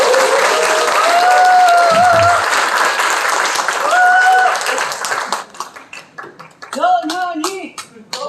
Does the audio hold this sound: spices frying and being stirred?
no